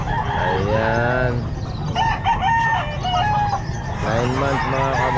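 Lemon Sweater gamefowl rooster, nine months old, crowing loudly at a busy pet market, with one long crow followed by clucking and a second crow, while market chatter and background noise continue.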